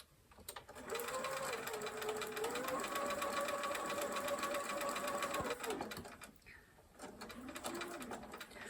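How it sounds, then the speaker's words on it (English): A sewing machine chain-sews quilt temperature blocks, running steadily and fairly quietly for about five seconds, pausing briefly, then starting up again. "then I can chain sew them together"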